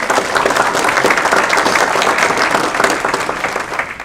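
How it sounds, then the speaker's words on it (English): An audience at a county board of education meeting gives a teacher a round of applause, dense sustained clapping filling the room at an even, loud level throughout. "Butler a round of applause"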